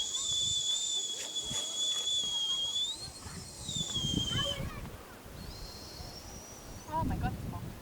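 A person whistles a long, sustained tone that bends in pitch, then a shorter whistle follows, with wind noise and breathy sounds around it.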